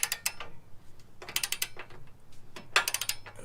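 A torque wrench ratchets while tightening rear bumper bolts on a Jeep JK, giving three crisp runs of rapid clicks separated by pauses, close and clear with no talk.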